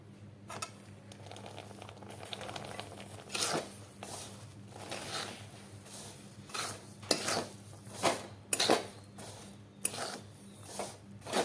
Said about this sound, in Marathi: हे शेंगदाणे आपल्याला छान असं भाजायचे आहेत.